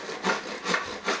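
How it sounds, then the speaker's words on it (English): A hand rasp files a Palram Palight PVC board in three rhythmic, close scraping strokes, each a coarse raspy rub, heard alone without speech. "I mean, this is just a rasp. what happens with this?"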